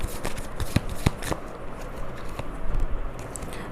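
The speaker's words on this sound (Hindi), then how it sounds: "let's use these oracles and cards निकालते हैं, देखते हैं कौन से कार्ड्स निकल के आते हैं आपके लिए" Tarot oracle cards are shuffled and drawn by hand, producing close rapid riffling and flicking snaps in quick bursts with no talking.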